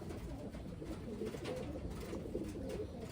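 Medium-sized Wantai pigeons coo softly and continuously, a faint, low murmur of repeated calls.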